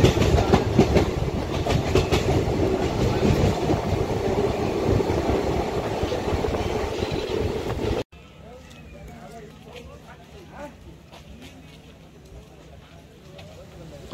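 The Amravati Express 18047 runs through hilly country near Castle Rock with a loud, dense rumble and clattering wheels, then the sound drops abruptly to a quieter, more distant rhythmic clack on the rails.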